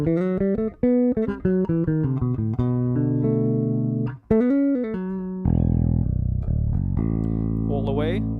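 Bass guitar played through an Ibanez MDM 1605 with the midrange boosted around 600 Hz, bright plucked notes in quick phrases and held tones, then a thicker sustained section with sliding notes, clear and up front.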